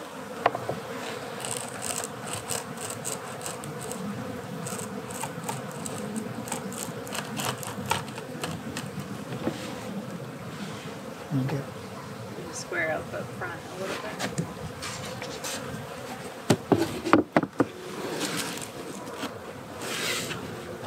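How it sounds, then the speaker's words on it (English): Constant buzzing of a large mass of honeybees on a farm, droning steadily, with a voice speaking faintly underneath and a few sharp rustles near the end. "That is a ton of bees."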